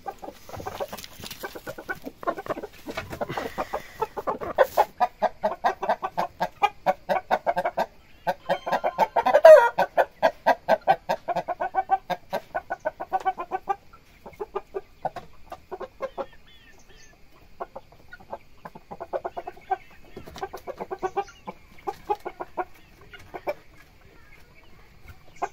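A hen and a blue Oshamo rooster cluck close by in a steady stream of short, repeated clucks that rise and fall in loudness, with no talking.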